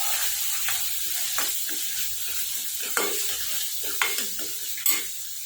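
Turmeric, red chilli and Schezwan sauce stirred into sizzling pasta masala in a frying pan, a steady frying hiss broken by a few scraping stirs of the spoon, close and without talk.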